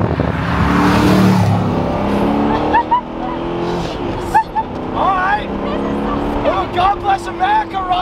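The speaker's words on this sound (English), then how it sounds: "we're driving an S7 twin turbo" Audi S7 twin-turbo engine accelerating, a loud sustained roar that rises through the gears from inside the car, with people talking over it later on.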